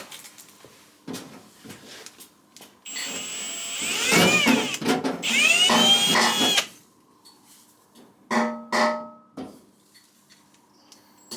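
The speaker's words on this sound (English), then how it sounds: "I'll go back through these now with a bigger drill bit" A power drill whirs through material in two long, loud bursts while enlarging holes with a bigger bit for rivnuts, with quieter clicks and handling noises before and shorter whirs afterward.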